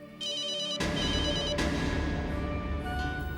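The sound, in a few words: telephone ringing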